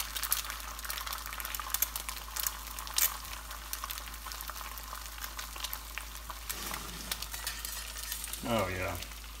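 Egg frying in a seasoned Stargazer cast iron skillet, a steady soft sizzle running throughout with a brief clatter near the end.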